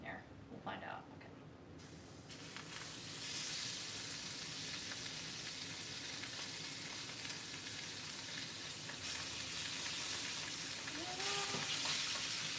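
Steady broadband sizzling hiss of fish frying in a pan for fish tacos, starting after a short quieter moment and continuing at an even level, with faint voices underneath.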